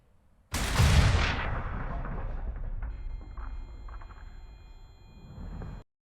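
A loud explosion at a storage area full of explosives in the horror game Amnesia: The Bunker: a sudden heavy blast followed by a long rumbling, crackling decay that fades over several seconds.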